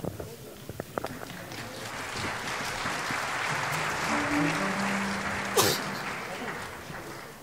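Audience applauding at a youth symphony orchestra concert, steady clapping from a full hall that starts with scattered claps and builds into sustained applause, with a sharp noise burst near the end.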